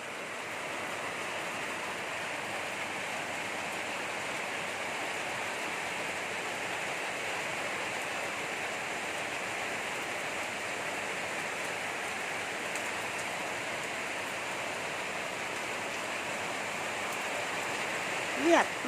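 Steady rain falls over an outdoor market set up in a temple parking lot, a constant hiss holding an even level throughout with no let-up, one brief knock near the end.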